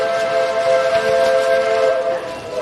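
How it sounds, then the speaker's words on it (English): A steam train whistle at Magic Kingdom, Walt Disney World, blows one long, loud, steady chord-like blast close by as a hurricane approaches. "that's the train finishing up."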